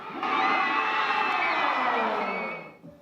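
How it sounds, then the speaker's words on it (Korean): Children at a school sports day cheer and shriek in a loud, sustained burst as a ball is popped in the ball-bursting game, the crowd's high voices swelling together for about two and a half seconds before fading. "박이 터지자 환호성도 터집니다."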